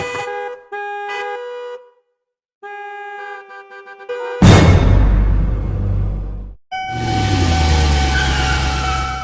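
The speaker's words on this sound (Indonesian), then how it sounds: "kamu sempat terbangun karena mendengar sirine perlintasan kereta api" Electronic chimes beep in a rhythmic pattern, then a loud crashing burst cuts in, followed by a sustained, buzzing synthetic railroad crossing siren tone in a video game.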